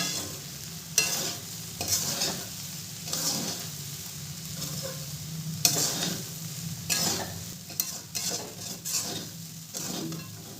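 Flattened rice (chira) pulao stirred in a pan with a gentle hand, producing a continuous low sizzle with repeated scraping strokes and occasional clinks of the spoon, close and without talking.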